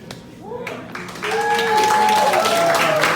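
Audience applause for a film crew at a Q&A, a dense burst of clapping that swells after a quieter start, mixed with cheering voices and whoops in a crowded room.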